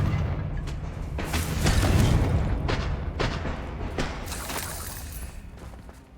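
Confringo fire spells detonating in a Hogwarts Legacy battle, a series of booming, crackling blasts with sharp bursts repeating every second or so over a dense rumbling game backdrop, no talk.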